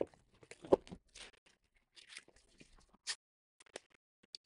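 Crinkly tearing and peeling of a thin plastic protective film off a sheet, in short irregular bursts with quiet gaps between them, close up.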